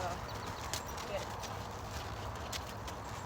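A horse being ridden in a schooling session, its hooves clip-clopping in a soft, irregular rhythm beneath steady outdoor noise, with a rider or instructor talking over it.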